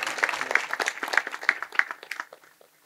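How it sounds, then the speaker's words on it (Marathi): Audience at an outdoor kirtan gathering in Hiwarda claps for the young men who served the meal, a moderate scattered round of applause with irregular individual claps that thins out and fades by the end. "एवढं सुंदर जेवण देणाऱ्या तरुणांसाठी टाळ्या झाल्या पाहिजे।"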